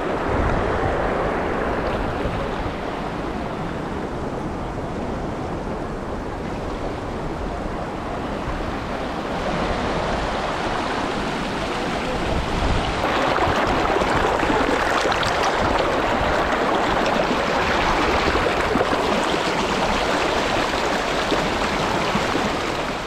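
The Ganges river at Rishikesh rushes along in a steady, broad roar of flowing water that continues unbroken from start to end, with no voices.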